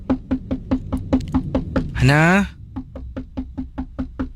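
Someone knocks on a closed door next door in a steady run of close, evenly spaced raps, pausing briefly while a voice calls out, then continuing to knock.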